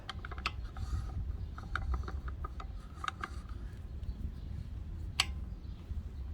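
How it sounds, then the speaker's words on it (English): Wrench tightening a BMW RimGard wheel lock cover onto a lug nut, giving sparse metallic clicks and ratchet-like ticks over low background rumble, with one sharper clack near the end. "I'll grab the wrench and I'll tighten it to really a firm tightness"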